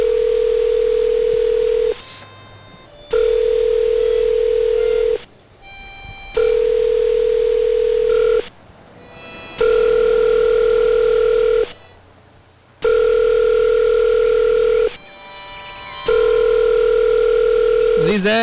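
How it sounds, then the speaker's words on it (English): A telephone rings on and off unanswered, a steady electronic tone repeating in about two-second bursts with brief gaps, loud and close, continuing for a long stretch. "Oh, the phone's been ringing forever."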